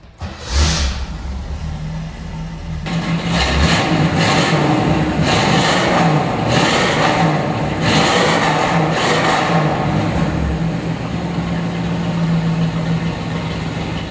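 A 1969 Chevrolet Camaro convertible pace car engine cranks and catches after a short quiet moment, then settles into a loud, steady idle broken by several strong revving bursts, close to the microphone and heard alone.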